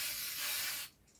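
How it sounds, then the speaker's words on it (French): A steady, close spray of cleaner hissing onto a quad engine for almost a second, then cutting off abruptly, leaving a faint tail. "il faut arroser d'une bonne dose"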